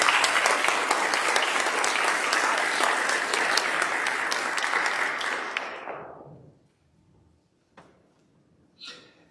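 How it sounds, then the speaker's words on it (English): A church congregation applauds in a sanctuary during a worship service, a dense, sustained round of clapping from many hands that fades out gradually, followed by a few faint knocks in the quiet. "Let's give him a round of applause."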